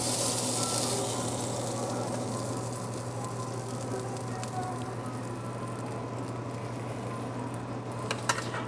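Halibut sizzles steadily in a frying pan, a continuous close, moderately loud frying hiss with a low steady hum beneath and a few faint clicks near the end, no talking.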